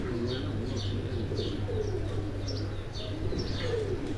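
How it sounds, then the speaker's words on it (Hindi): Caged breeder pigeons at a farmstead near Pindi give a run of throaty coos and brief chirps, close and continuous, with a light flutter of wings and a steady low drone beneath. "ये कबूतरों का केज, ये कुछ थोड़े से कबूतर बाहर निकले हुए हैं"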